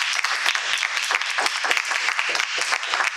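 A small audience at a Toastmasters club meeting gives a short round of applause, brisk, close clapping that stays steady throughout with no speech over it.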